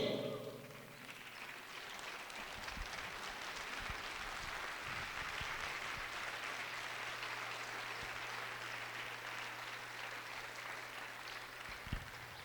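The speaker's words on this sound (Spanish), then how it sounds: "Dele un aplauso al Señor Pello." A church congregation applauding, a sustained crowd clap filling most of the stretch at moderate distance, with a low steady hum underneath.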